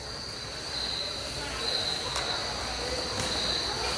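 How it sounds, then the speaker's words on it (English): Recorded cricket chirping plays over the sound system at a women's U22 Elite ice hockey game in an arena. It is a steady, thin, high trill that runs throughout, with crowd and room noise underneath. "Once again, they're playing the crickets in the sound system here."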